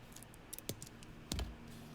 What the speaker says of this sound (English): So this came with a plug, which we don't need. So we're just going to cut that off.